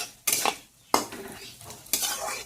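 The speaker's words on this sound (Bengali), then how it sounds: "এই যে এখানে করছি চাল কুমড়ো ঘন্ট" A spoon scrapes and stirs ash gourd curry (chal kumro ghonto) in a cooking pot in a home kitchen, three distinct scraping strokes about a second apart with a faint sizzle between them and no voices.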